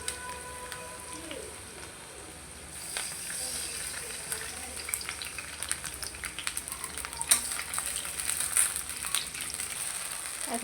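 Water poured onto fried onions in a hot pan sets off a sudden surge of crackling sizzle, steady hissing and spitting with scattered pops that grows busier toward the end, close and moderately loud.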